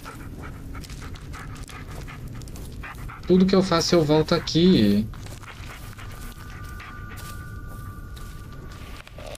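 A dog in the horror video game A Bruxa de Hackett's Blairry pants in a quick rhythmic burst lasting a couple of seconds, clear and close, with a person talking before and after.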